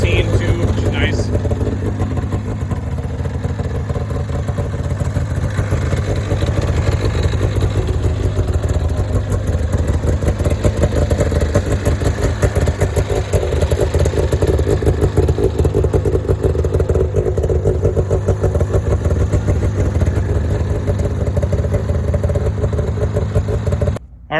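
The two-stroke engine of an Arctic Cat Z440 snowmobile, revived after over 20 years of sitting, idles steadily up close, a continuous buzzing rattle that holds even throughout, with only minor fluctuations.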